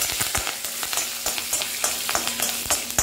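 Curry leaves and a green chilli fry in hot oil in a pan, a dense, even crackling sizzle with quick repeated pops and spits, close and steady for a few seconds with no talking.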